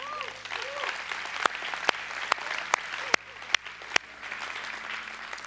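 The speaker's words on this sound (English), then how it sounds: "Every week we clap at this moment." Church congregation applauding at offering time during a Christmas-season service, a steady roomful of clapping with a few sharp, louder individual claps standing out near the front and some murmured voices underneath.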